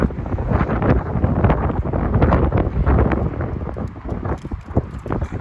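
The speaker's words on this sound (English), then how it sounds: "Excuse the wind, please. It's decided to get very windy here all of a sudden." Heavy wind buffets the microphone in loud, rumbling gusts that roar and thump continuously, with no voices over it.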